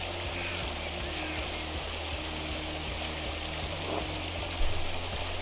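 Steady rushing waterfall ambience from the video game Pentiment, a constant broadband wash of falling water with faint low hum and a few brief clicking accents, no speech.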